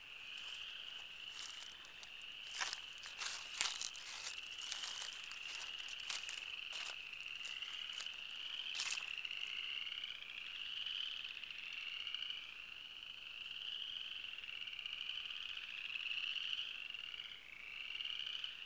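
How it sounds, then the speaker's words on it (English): Southern chorus frogs calling at an oil lease pond in Posey County, Indiana: a steady near chorus of rising, rasping trills like a finger run along a comb, with a burst of sharp clicking calls early that fades into continuous trilling. "These are southern chorus frogs, which sound like you're running your finger up a comb."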